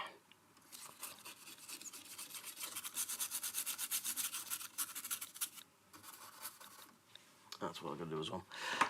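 Rubbing and scrubbing with isopropyl alcohol while cleaning up during an amplifier repair on a workbench, a steady close dry scratching that swells and fades for several seconds, with a brief louder burst near the end.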